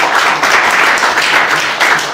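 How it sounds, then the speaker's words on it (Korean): An audience claps at a meeting in a conference room of the National Assembly Members' Office Building, a continuous, fairly loud burst of applause with no speech over it. "박수 한번 드리겠습니다."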